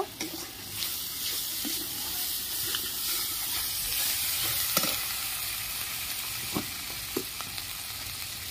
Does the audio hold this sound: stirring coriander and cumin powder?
yes